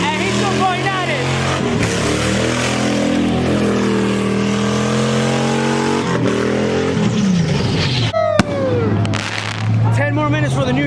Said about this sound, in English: His tires have popped and he's still going at it